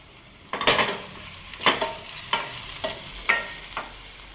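Curry leaves and a dried red chilli hit hot oil in a pan for carrot rasam, giving a burst of sizzling followed by several sharp crackles and pops and light stirring scrapes, close and fairly loud.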